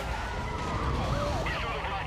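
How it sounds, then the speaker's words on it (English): Several police car sirens wail and overlap during a high-speed chase in the racing game Need for Speed: Most Wanted, rising and falling over engine noise while someone talks. "there are police cars flying right now"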